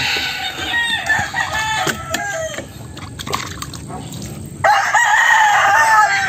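An eight-month-old golden gray gamefowl rooster crows loudly on a farm, its strained, harmonic call rising near the end over a busy background of other birds and clucking, with a voice talking nearby.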